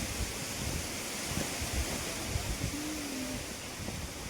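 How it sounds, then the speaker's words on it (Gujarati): Steady wind rushing against the microphone, a broad low roar with gusty rumbles throughout and a faint tonal whine partway through. "વરસાદ પણ છે અને પવન ચાલુ છે"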